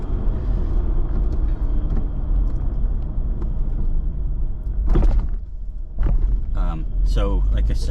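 A car driving along the entrance road into Umstead State Park, a steady low road rumble and engine drone throughout, with brief bursts of talk from inside the car toward the end.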